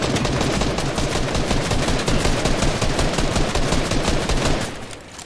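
Rapid shotgun and weapon fire from the video game Fortnite, a dense, loud burst of repeated cracking shots that continues almost without a break for several seconds, then fades off at the end, with no talking.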